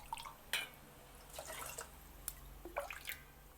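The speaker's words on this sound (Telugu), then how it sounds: "3 గ్లాసుల నీళ్లు పోయాలి" Water splashes from a glass into a pot holding rice and lentils in a few quiet, uneven pours and drips, soft and close, with no talking.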